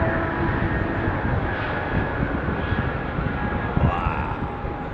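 Boeing 777 jet engines spool up to full power as the airliner climbs a slight incline at London Heathrow, a loud, steady broadband roar holding close and constant throughout.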